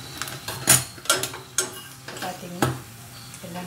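Nuts roast in ghee while a spoon stirs them around a pan, giving a handful of distinct scraping clinks over a soft, steady sizzle, close and without speech.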